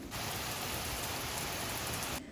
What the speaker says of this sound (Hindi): और जैसे शाम हुई है दोबारा बारिश होने लग गई है।